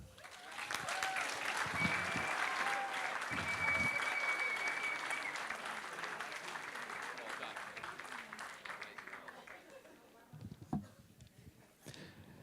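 Wedding guests applauding the bride's parents during the speeches, a sustained wash of clapping that slowly thins and fades toward the end, with a few scattered claps and faint voices in the last seconds.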